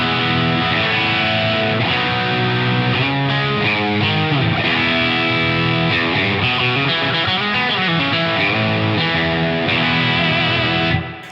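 A guitar played through a Rude Tech Falcondrive overdrive/distortion pedal with its two sounds blended gives a thick, continuous distorted riff, loud and close throughout with no talking.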